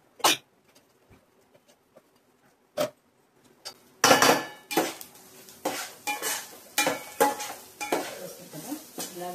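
Coconut is stirred and fried in a metal pan, with scattered light scrapes at first, then repeated loud clanking strokes of a spoon against the pan over a soft sizzle.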